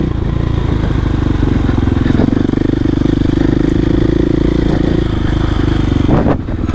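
A supermoto motorcycle being ridden, its engine giving a steady buzzing drone with rapid firing pulses, joined by brief clattering and wind noise near the end.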